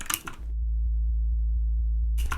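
A pure sine-wave sub bass from a remix sustains a deep, smooth low tone for nearly two seconds, entering after a brief burst of other music and cut off as the full mix returns.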